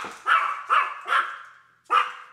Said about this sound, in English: My dog's a yapper.